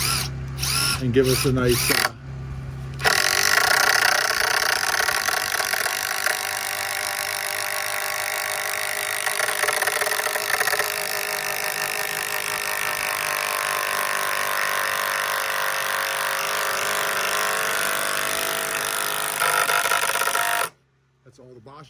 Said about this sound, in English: Trying to get 3 solid screws in that hopefully suck this into the wall